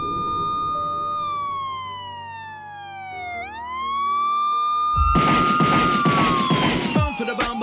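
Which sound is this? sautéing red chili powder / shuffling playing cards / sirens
sirens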